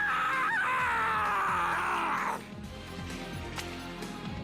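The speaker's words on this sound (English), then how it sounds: "The wall started moving with that scream." A character in the anime fighting game My Hero One's Justice 2 lets out a loud, strained scream lasting about two seconds, then a lower rumble of game sound continues.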